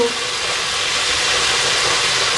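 Bay leaves, cardamom, cloves, cinnamon and onions fry in hot oil for a chicken curry with tomato, giving a loud, steady sizzle and hiss close by and no talk.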